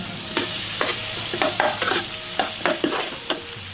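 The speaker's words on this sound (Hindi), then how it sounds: "तो अब मैं इसके अंदर पहले टमाटर डालूंगा। इसको अच्छे से मक्खन में" Tomatoes frying in butter for paneer butter bhurji, a close, steady sizzle with repeated quick spatula strokes and scrapes against the pan at an uneven rhythm, no talking.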